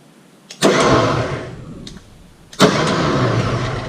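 A newly installed electric winch on a trailer, switched on with its on/off button, gives two loud mechanical bursts, the first running about two seconds and fading, the second starting abruptly and continuing steadily to the end.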